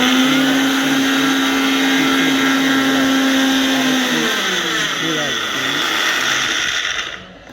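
A kitchen mixer grinder whirs loudly and continuously, its motor pitch shifting midway, then cuts off abruptly at the end.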